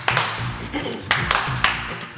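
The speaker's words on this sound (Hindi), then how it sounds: "मेरा तो तालियां मार मार के हाथ सूज गए" Sharp hand claps ring out in a room to summon a jinn, four distinct smacks spaced irregularly over a couple of seconds, fairly close and loud over low background murmur and faint voices.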